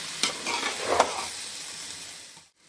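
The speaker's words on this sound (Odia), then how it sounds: "ପିଆଜ, ପୋଦିନା, ଟମାଟୋ, ବିରିୟାନୀ ମସଲା ସବୁ ମିଶେଇକି ଆମ ଚାଉଳକୁ ବଢ଼ିଆ ସେ ଭାଜୁଛନ୍ତି।" Rice frying in a pan with onion, mint, tomato and biryani masala for a quick mutton biryani, a steady close sizzle with brief stirring scrapes, then a sudden cut to silence near the end.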